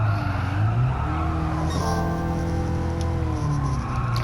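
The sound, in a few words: Toyota Aqua S engine off throttle in Gran Turismo 7 video game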